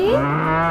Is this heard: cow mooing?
yes